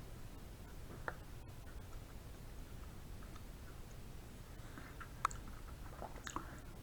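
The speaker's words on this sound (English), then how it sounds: "I'll stop chewing this one" A butternut squash seed is chewed close to the ear, producing soft, faint crunching and moist clicks scattered irregularly across the quiet stretch, with no talking.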